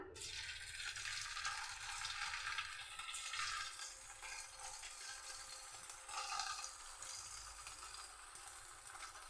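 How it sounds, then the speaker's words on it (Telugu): Small dough balls frying in hot oil over a low flame, giving a steady soft sizzle and bubbling hiss that continues evenly throughout with no talking. "చిన్న ఫ్లేమ్ మీద వేయించుకోవాలి ఫ్రెండ్స్"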